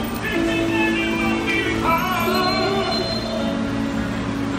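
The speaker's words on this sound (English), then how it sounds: "The train is coming." A New York subway train pulls into the station with loud, sustained, shifting metallic wheel squeals over the rumble of rolling cars, close and continuous without speech.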